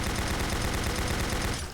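Machine gun fire from the video game Doom 64, a dense, continuous stream of rapid shots filling a brief burst, loud and unbroken until it tapers at the end.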